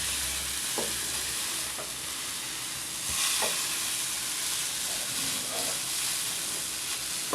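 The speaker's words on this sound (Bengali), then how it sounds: "নুডলস তৈরির ক্ষেত্রে মেইন কাজটাই হচ্ছে আপনাকে ভালোভাবে এগুলো নাড়তে হবে" A homemade noodle mixture is stirred in a hot pan, a constant hissing sizzle with occasional soft scrapes and knocks of the utensil, close and steady throughout.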